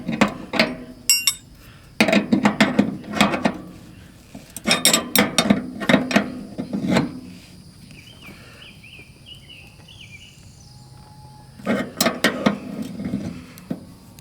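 A mini split refrigerant line fitting is tightened by hand with a wrench, giving clusters of close metallic clicks and knocks in bursts separated by quieter stretches, with no talk.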